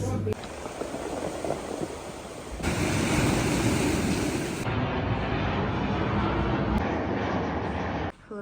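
Steady Atlantic Ocean surf on Madeira roars with wind buffeting the microphone, a continuous washing rush with no clear breaks.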